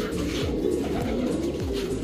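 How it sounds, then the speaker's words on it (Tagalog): Pigeons in a breeder's loft cooing steadily in low repeated murmurs, close and continuous with no voices. "manghuhuli sa mga naka-reserve na ibon ni Sir Christian Palad"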